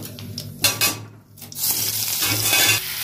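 Boiled potato, carrot and sweet potato frying in hot oil in a kitchen pan: close sizzling with scraping and clinking of a spatula stirring, briefly dipping quiet before the loud sizzle resumes.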